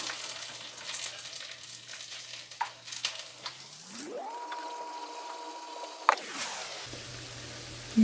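A second batch of phulkiyan, small gram-flour pakoras, dropped into hot oil for karhi pakora, with a soft sizzle and bubbling; a steady mechanical hum rises midway and then fades.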